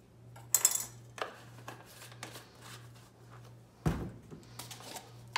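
A spoon stirring oatmeal with cinnamon in a pot, giving short clinks and scraping strokes against the metal with a low steady hum behind them and no talking.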